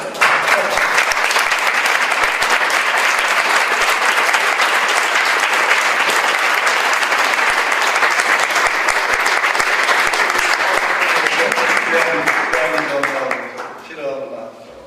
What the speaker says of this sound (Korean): 우리 부모님들이 한번 가장 많이 박수를 받아야 될 것 같아요